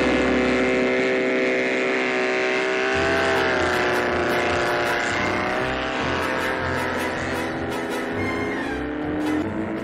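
A helicopter flies over an island, its engine drone holding steady and loud from start to finish, with a slight shift in pitch partway through.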